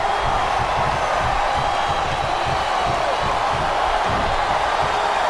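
A dense arena crowd roars steadily in WWE SmackDown vs Raw 2008 during a Randy Orton versus Torrie Wilson submission match, a loud constant wash of cheering without distinct breaks, alone at near distance.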